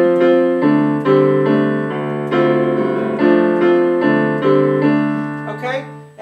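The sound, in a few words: piano playing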